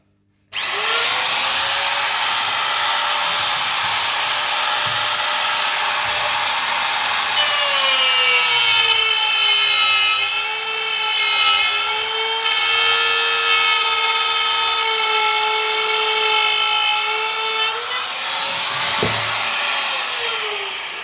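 A Bosch GKF 550 trim router cuts a pass along plywood, giving a loud, steady high-pitched motor whine that deepens slightly under load midway, then runs free again before cutting off near the end.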